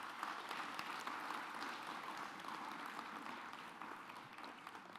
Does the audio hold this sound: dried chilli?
no